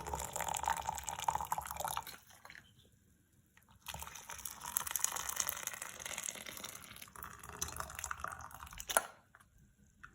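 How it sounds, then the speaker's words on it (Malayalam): Freshly boiled hot water is strained for Kerala-style pidi, pouring and trickling in a few short, fairly quiet bursts separated by brief silences. "ഇനി നമുക്ക് ഈ വെള്ളം അരിച്ചെടുക്കാം. നല്ല ചൂടോടുകൂടി തന്നെ അരിച്ചെടുക്കുക."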